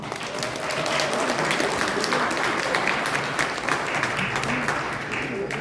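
Wedding guests in a hall applaud: steady, dense clapping from a crowd that holds at an even level for several seconds. No one speaks.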